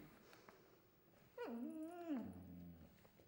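A dog whimpers in one long, drawn-out whine that bends up and down in pitch, close and clear against a quiet indoor background, with faint shuffling before it and no talking.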